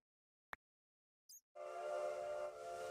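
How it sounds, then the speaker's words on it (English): Train whistle from the Minecraft Create Mod, a short click then a brief chirp before a sustained, steady multi-tone whistle blows loudly and alone for over a second. "I have the train whistle too"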